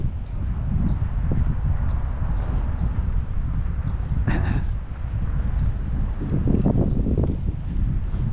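Steady wind rushes and buffets the microphone throughout on a sunny neighborhood walk, with faint bird chirps and a brief rustle partway through.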